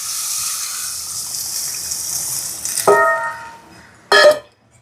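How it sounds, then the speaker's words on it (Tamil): Water is poured into a pot of chicken curry with fried chicken pieces, a steady close gush of liquid running for a few seconds, followed by two short clanking splashes as the pouring ends. "தண்ணி சேர்க்குறேன்."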